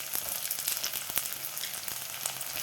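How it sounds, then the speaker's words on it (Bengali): Chopped onion and tomato fry in a pan, a steady close sizzle that crackles with small pops throughout and has no talk over it. "দেখো পেঁয়াজটা ভালো করে ভেজে নেবো একটু"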